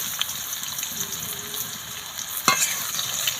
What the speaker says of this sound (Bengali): ঝিঙেগুলো দিয়ে দেবো তেলের মধ্যে